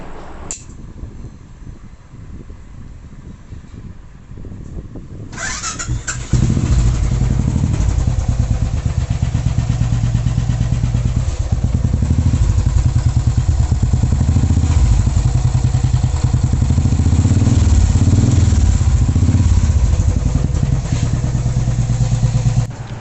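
A Royal Enfield 500cc motorcycle engine sits quiet for several seconds, then fires up and runs loudly and steadily up close with a continuous thumping idle and light mechanical clatter.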